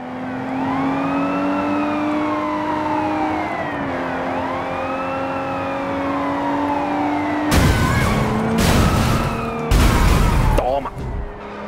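Police car sirens wail in a chase in Sleeping Dogs, a rising and falling siren over steady car engine noise, interrupted by several loud crashing impacts near the end.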